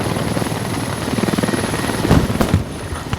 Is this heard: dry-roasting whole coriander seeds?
no